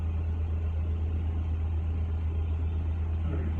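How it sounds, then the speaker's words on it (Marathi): A car driving along a London road, heard as a steady low engine drone and road rumble, even and unbroken throughout. "गाडी चालली"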